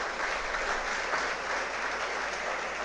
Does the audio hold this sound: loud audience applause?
yes